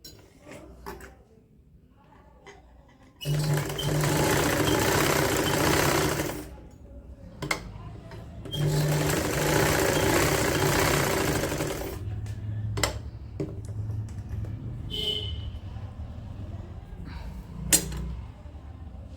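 A sewing machine stitches a folded double-layer band onto handmade woolen socks in two loud, steady runs of several seconds each, separated by quiet pauses with small handling clicks and knocks.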